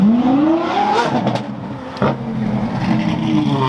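A Lamborghini Aventador Tecnica drives past at a car event, its engine revving loudly with a rising pitch that swells, dips and surges again as it passes close by.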